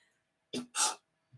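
A single sharp sneeze, a quick inhaled catch followed by a loud breathy burst, close and clear against near silence, with a faint small sound after.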